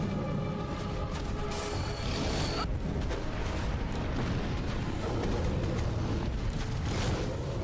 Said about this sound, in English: My giant Michael Bay explosions are not enough to catch the boss.